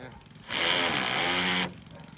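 A power drill drives a screw while replacing a spoiler on a Dodge Charger R/T, whirring steadily for about a second, a loud continuous mechanical buzz with muffled background noise before and after.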